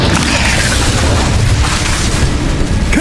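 A fire spell, Incendio, is cast in Hogwarts Legacy, giving a loud, dense roaring burst of flame that fills the moment with steady rumbling energy and no clear pauses.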